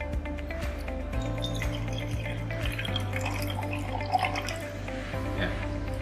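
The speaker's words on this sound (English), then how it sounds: "we will use this natrium hydroxide and pour it into bigger glass carefully" Sodium hydroxide solution pours carefully from one vessel into a bigger glass during an acid-base batik dyeing activity. Liquid trickles and drips steadily at close range, soft against a faint room background, and nobody speaks.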